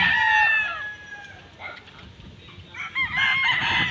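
Chickens and roosters on a farm: a rooster crows loudly up front, then scattered clucks follow before another bird calls out near the end, all close by with no voices.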